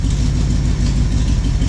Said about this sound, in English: you can hear the engine. It sounds beautiful